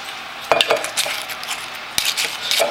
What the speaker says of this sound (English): So, we pour in the wine.